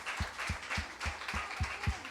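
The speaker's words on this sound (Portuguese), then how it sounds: "Vamos aplaudir o Senhor." An audience at a church school gathering claps in a steady rhythm, roughly three beats per second, moderately close and fairly soft, with a murmur of voices behind it.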